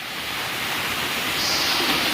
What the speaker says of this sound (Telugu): వాటర్ వాటర్ పడుతుంది.